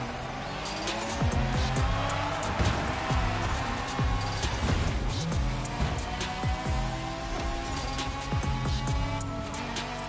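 Race car in The Crew Motorfest video game, a loud continuous engine roar with rising and falling revs, gear-shift changes and brief tire noise throughout.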